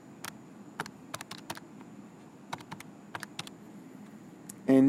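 Keys tapped on a calculator or keyboard to enter a logarithm calculation, scattered quick clicks in small bursts, fairly close over a quiet room hum, ending in a louder thump.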